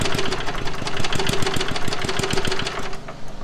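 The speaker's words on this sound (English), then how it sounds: "Okay, now we're gonna try to start it up again. Oh, there we go. Oh, it fired up." A restored lawnmower engine fires up and runs close by, its rapid, uneven chugging steady and loud throughout with a rough, knocking beat.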